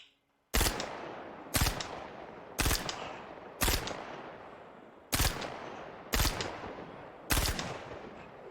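A Gemini C54 SMG fired in the video game Star Citizen, giving seven sharp, loud short bursts spaced about a second apart, each with a quick decaying tail, and no talking.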